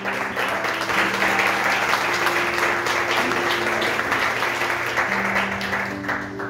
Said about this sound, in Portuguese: Aplauda o Senhor, meu amado.